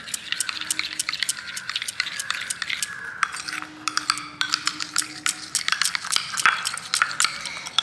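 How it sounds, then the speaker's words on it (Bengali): Aloe vera gel is worked into a homemade heel cream in a small bowl. A utensil scrapes and clicks against the container in quick, irregular strokes, close and fairly crisp. "প্রত্যেকটা জিনিস খুব সুন্দর করে একে অন্যের সাথে এইভাবে মিশিয়ে নিতে হবে।"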